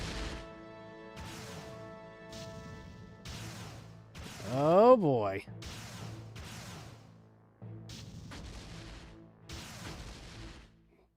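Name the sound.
wave cannon blast hitting a unit in R-Type Tactics video game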